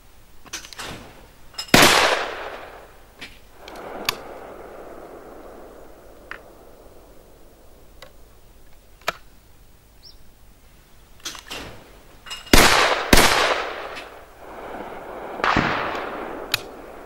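Shots from a Browning Héritage 20-gauge over-under shotgun fired at clay targets ring out in sharp, separate reports: one early, one mid-clip, and a close pair near the end, each trailing off into a fading outdoor echo.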